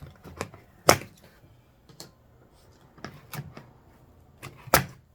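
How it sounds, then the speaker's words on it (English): Excess zip-tie tails on a pool noodle centerpiece are snipped off one after another, giving sharp, close clicks and snaps spaced irregularly with quiet gaps between, several louder cuts standing out. "We're just going to cut off the excess of the zip ties."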